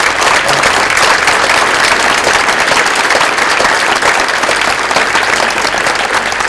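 Dense, sustained applause from an audience fills the room, loud and steady from start to finish with no voices breaking through.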